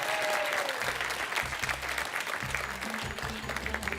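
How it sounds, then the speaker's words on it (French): Studio audience clapping on the French TV game show Les 12 Coups de Midi, a full steady burst of applause with upbeat music pulsing underneath. "On fait des applaudissements pour Mrs."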